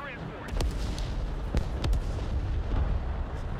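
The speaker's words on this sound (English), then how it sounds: "Need to stop this artillery so it doesn't damage our attack force" Artillery fires in the real-time strategy game Broken Arrow: scattered booming blasts and sharp cracks go off over a dense, rumbling battle din, with several distinct hits spread through the stretch.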